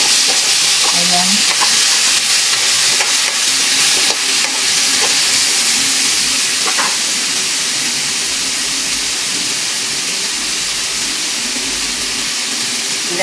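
String beans and squash stir-fry in a hot pan with a loud continuous sizzle and hiss, a few clanks of the utensil against the pan near the start.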